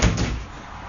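A door swinging open at a home birthday gathering, one loud close thump and creak that quickly fades.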